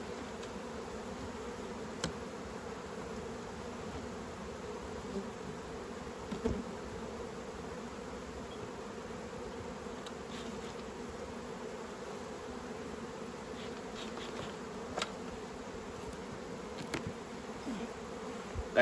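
Honey bees buzz around an open beehive in a steady, dense drone that holds for the whole stretch. There are faint occasional clicks and rustles, and no talking.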